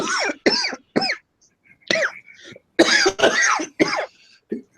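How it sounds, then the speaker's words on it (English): A person coughs and hacks repeatedly up close, with several harsh bursts and throat-clearing sounds separated by short pauses. "you shouldn't be coughing from a vape"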